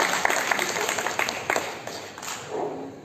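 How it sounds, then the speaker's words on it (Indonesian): Assembly audience in a parliamentary plenary session hall in Banda Aceh clapping, a brief burst of scattered claps that thins out and fades toward the end, with some faint room noise. "Tepuk tangan kawan-kawan."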